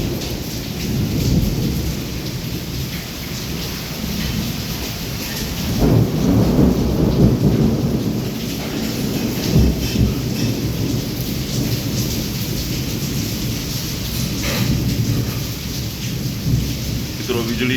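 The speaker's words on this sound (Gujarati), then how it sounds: "વીજળીના કડાકા અને ભડાકા સાથે અત્યારે વરસાદ અનરાધાર ચાલુ છે" Heavy rain pours steadily while deep rumbles of thunder roll through, swelling louder in places, with no voices over the storm, in Wankaner.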